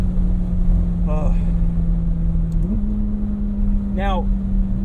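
Open-top 2020 McLaren 600LT Spider cruising at an easy pace, its engine a steady low drone that holds one pitch and then steps slightly higher, with brief rising whistles over it.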